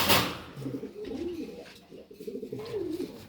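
A pigeon in a breeding loft gives repeated soft, low coos in a rolling rhythm, close by, over faint background noise.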